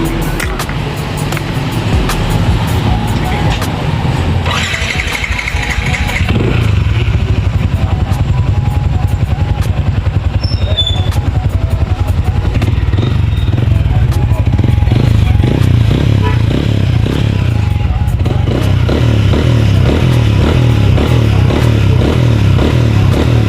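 A Sniper 155 VVA motorcycle engine idling after fuel filter replacement and fuel injector cleaning, a loud steady close-up running sound with a mechanical clatter that persists throughout.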